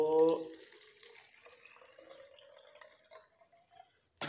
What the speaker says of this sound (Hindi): ये पानी दोस्तों हमने इतना सा बोतल में डाल लिया है